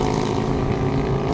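Loud open-pipe exhaust from a passing vehicle on a road toward Carmona, a dense continuous engine drone close by, with no voices over it.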